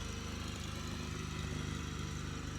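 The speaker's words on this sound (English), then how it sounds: "that guy's riding a lawnmower on the road" A lawn mower drives along a road at night, its small engine putting out a steady, pulsing drone that stays moderately loud and constant with no voices.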